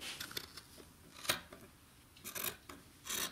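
Scissors cut fabric along a pants outline in short separate snips with soft rubbing between them, close and quiet, no talking.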